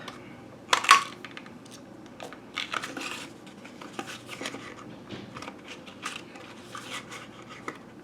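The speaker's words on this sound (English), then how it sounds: "now I'm going to take this tab punch and I'm going to cut out 2 tabs" A handheld tab punch cuts paper tabs: a sharp clack near the start, then scattered lighter clicks and rustles of paper being handled on a tabletop, close and quiet.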